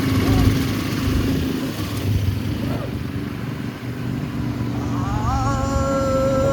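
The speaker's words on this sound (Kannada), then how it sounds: "ಗೈಸ್ ನೋಡಿ ಹೋಗ್ತಾ ಇದೀವಿ. ಇದು ರೆಂಟ್ ಮಾಡಿದ್ವಿ ಬೈಕು." Rented motorcycle being ridden in Ladakh, a steady engine drone with wind buffeting, with people talking over it.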